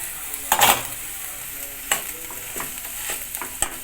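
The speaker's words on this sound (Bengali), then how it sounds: "এটাকে ভালো করে কষিয়ে নেব।" Ginger paste stir-frying with onion and garlic in a little oil for a Bengali fish curry, a steady close sizzle punctuated by a few sharp scraping spatula strokes against the pan.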